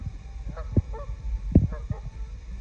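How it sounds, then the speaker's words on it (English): Two Canada geese on a pond give a few short honks, spaced irregularly and moderately close, over a quiet outdoor background. "They just landed in the pond. Two Canadian geese."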